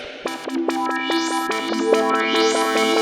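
A bright synth melody with sustained chords over a beat, notes stepping and gliding upward, loud and alone with no talking.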